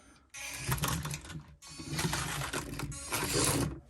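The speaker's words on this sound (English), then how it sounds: "it slows down working that little servo or whatever's in there" A small electric steering servo in a Power Craze Shift 24 RC car whirs in three short, strained mechanical bursts, close and fairly loud, with brief pauses between them.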